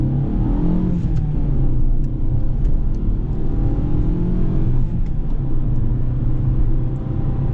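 A Fiat Egea accelerates hard uphill from a standstill, heard from inside as a loud, continuous engine drone with rising revs and steady road rumble, no voices over it.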